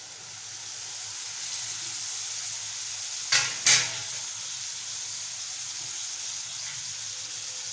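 Potato bhaji stir-fries in oil with a steady sizzling hiss, broken by two quick louder scrapes of a spatula against the pan, then the even frying resumes alone.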